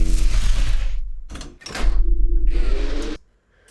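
Layered sound design mixes electric sparks, a low impact and gritty, raspy whooshes. Two dense, loud bursts of noise with deep low-end rumble are split by a brief gap and a sharp crack, then fade out abruptly.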